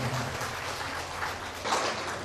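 Applause for Bojonegoro at a BKKBN event in a hotel hall, a modest, fairly faint patter of hand claps from a seated audience that stays even for a couple of seconds.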